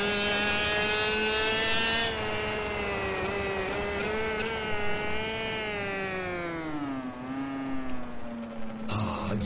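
A modern two-stroke motorcycle engine in a racing video game revs loudly and steadily, its pitch climbing and sagging in a continuous buzzing drone that fills the whole stretch, with no talk over it.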